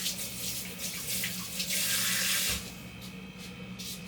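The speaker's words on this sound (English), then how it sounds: "A little water in that cake pan." Water from a kitchen tap pours into a baked bundt cake pan, a steady close hiss and splash that swells louder for a second before easing back to a softer flow.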